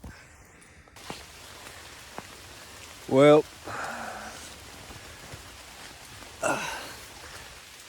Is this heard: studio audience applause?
no